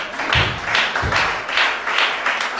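A church congregation claps in a steady, even rhythm to acclaim God during a worship service, each sharp clap landing roughly twice per second, close and fairly loud.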